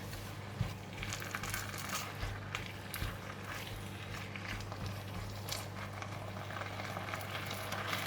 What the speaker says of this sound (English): I'm going to put in the vegetable, the leaf, and we're going to stir fry them together.